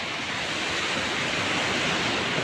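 Gentle surf on a calm beach at Ilihan, Batangas, with barely any big waves, a steady wash of broadband noise with no distinct breakers, close and even throughout.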